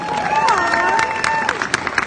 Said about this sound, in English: Round of applause for Katie McGrath